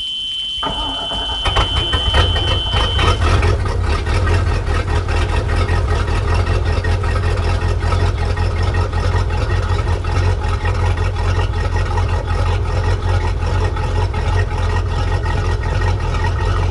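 Mercruiser Alpha One sterndrive engine cranks and catches, then runs at a loud, steady, rumbling idle right up close after a lower unit and water pump service.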